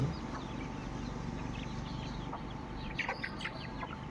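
Small white chicks cheep in quick, high chirps over a low background hum, the peeping fairly faint and picking up toward the end.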